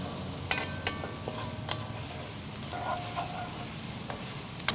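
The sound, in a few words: onions and celery sizzling and being stirred in a pan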